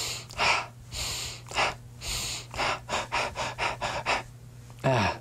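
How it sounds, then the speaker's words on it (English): Repeated sharp breaths from a person demonstrating abdominal breathing, a rhythmic series of close, forceful inhales and exhales with short pauses, ending in a longer rough breath. "What I'm doing is called abdominal breathing."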